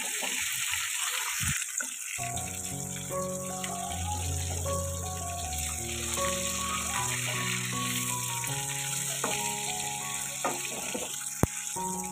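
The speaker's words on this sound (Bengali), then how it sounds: "এখানে আমার মাছও ভাজা হয়ে গেছে" Bhetki fish fries in a pan over a village stove in Assam, a continuous sizzle and crackle under a steady background tone with a few clicks, no talk.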